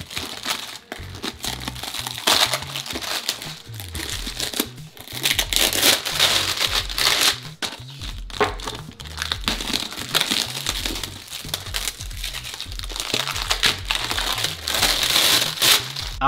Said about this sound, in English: we got them heat shrink wrap. Let's go ahead and cut that open